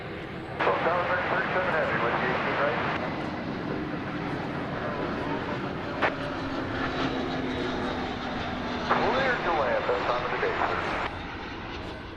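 Jet airliner on a flight from Cancun at DFW Airport, a loud steady roar of engines filling the whole stretch with swelling peaks, while faint radio chatter and other voices run underneath.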